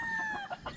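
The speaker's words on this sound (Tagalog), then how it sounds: "Ang gandang manok nito." A stag gamefowl rooster at a gamefarm lets out a short, close clucking call, a brief throaty burst over a faint steady tone.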